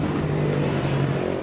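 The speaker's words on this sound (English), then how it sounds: "It's the beginning of the holiday season in Bavaria, so that's the traffic." Steady road traffic on a busy Bavarian road at the start of the holiday season, a continuous engine and tyre rumble heard close by, with no pauses.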